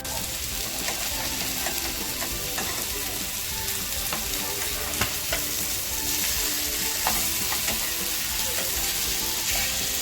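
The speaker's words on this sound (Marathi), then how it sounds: "आता आपण पलटी करूया बघा कमी तेल वापरून सुद्धा मच्छी किती छान फ्राय झालेली आहे" Silverbar fish frying in a pan with little oil gives a steady, close, dense sizzle with scattered crackles and pops throughout, and no voices.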